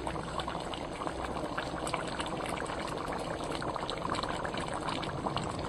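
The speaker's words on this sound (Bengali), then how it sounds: "গুঁড়ো মশলাটা দেওয়ার পরে আমি দিয়ে দেবো এখানে 2 চামচ মতো ঘি" Ghee goes into a simmering shukto of fresh vegetables and ground spices, heard as a dense, continuous bubbling and crackling close by without pause.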